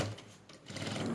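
A sewing machine runs steadily for about a second as it stitches fabric for a sari, giving a close, continuous motor whir.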